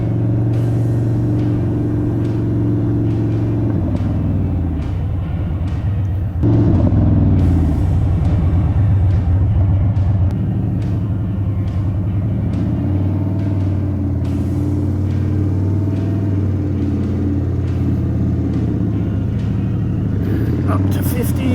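A 2023 Indian Chief motorcycle accelerates to 50, its deep rumbling engine steady and close, with a shift in tone partway through and a rider talking over it.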